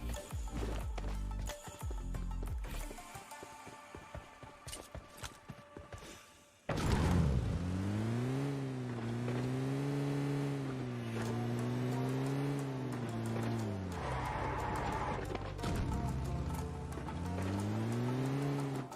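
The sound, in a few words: vehicle driving in the video game PUBG Mobile Lite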